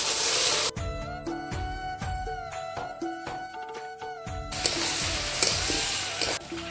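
Chopped onions sizzle in a pan while cooking goat liver and potato bhaji, with ginger, cumin and coriander pastes going in. The loud, steady sizzle is heard at the start and end, and a stretch of tonal music-like sound fills the middle.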